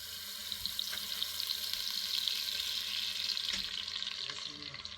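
Oil sizzles and fries steadily in a pan while mutton cooks, a soft continuous hiss with a few faint clinks of stirring, quiet and close.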